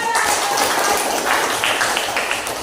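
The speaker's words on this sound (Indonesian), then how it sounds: "Oke, tepuk tangan" Applause fills a classroom, a dense wash of many hands clapping steadily from start to finish at moderate loudness, with a teacher's voice faintly present underneath.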